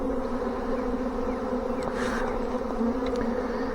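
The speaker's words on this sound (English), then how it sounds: "They want to prop up on me and fan some scent right now" Honey bees fanning scent at a swarm trap holding a huge swarm make a dense, continuous buzzing drone close by, steady throughout with a few brief louder wing passes and no talking.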